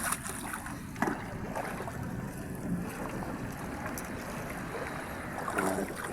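A small fishing boat (bangka) out on the water with two people aboard, a low-pressure system approaching, giving a steady wind-blown wash and hum of water and hull throughout, fairly loud and continuous with no talking.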